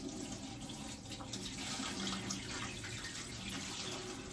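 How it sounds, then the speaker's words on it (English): Distilled water is poured into a home humidifier, making a steady, splashing stream that runs continuously at close range and quiet level, with no talking. "So I'm adding distilled water."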